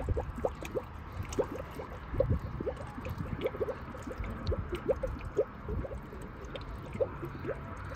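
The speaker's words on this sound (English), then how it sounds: "I'll slowly pour in the head gasket sealant with the water." Water trickles slowly with head gasket sealant poured through a funnel into a Ford Ranger radiator, producing soft intermittent drips, splashes and gurgles close by, quiet and steady with no talking.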